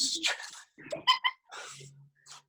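A dog gives short whimpers and a few yips or barks, fairly quiet and intermittent, mixed in with people talking.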